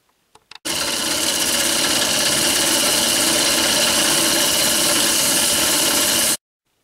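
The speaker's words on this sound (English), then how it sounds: "I'm just going to turn the drill press on its slow speed and just run the sandpaper up and down along there" Drill press switched on at slow speed spins sandpaper against an epoxy-coated foam model rocket nose cone; a few clicks, then a steady loud motor whir with abrasive rasp that cuts off abruptly.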